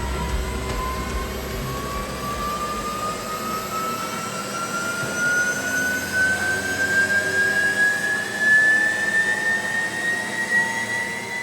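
A Porsche Taycan electric drive unit spins up on a factory test bench toward 16,000 RPM, a loud steady rising whine with a broad roar beneath, climbing continuously in pitch with no speech.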